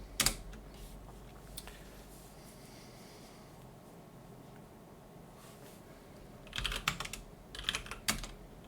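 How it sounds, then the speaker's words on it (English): Fingers typing on a computer keyboard, soft scattered key taps at first, then a quicker burst of clicks near the end, close and alone. "Gotta actually type the launch command."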